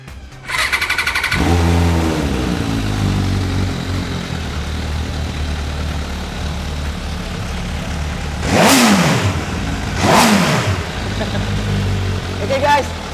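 An MV Agusta F4 1000R motorcycle engine cranks and fires, settles into a loud idle, then gives two sharp revs and a short blip near the end, close to the listener.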